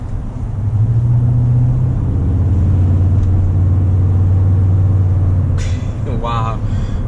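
Low, steady cabin drone and engine rumble from a 2019 Toyota Tundra TRD Pro pickup under way, with someone talking over it and a brief squeak near the end.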